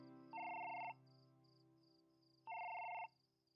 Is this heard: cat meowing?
no